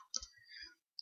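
Computer mouse double-clicked while working in Excel and Word, a quick pair of light, close clicks followed by one more sharp tick, with no talking.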